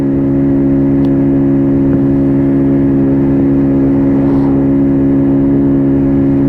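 Wk Colt 50cc scooter engine drones evenly during a road test ride, a constant loud hum with steady tonal whine and wind rush, uninterrupted and with no voices.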